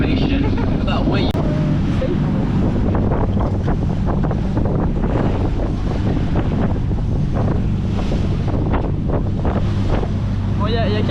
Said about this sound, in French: il y a quelques petites vagues